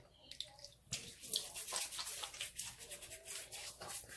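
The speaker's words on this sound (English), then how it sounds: "I need to get this bloom water on my face" Hot water splashed onto a face by hand before a shave with a Japanese kamisori straight razor: a series of wet splashes and patters, close but fairly quiet, with some dripping in between.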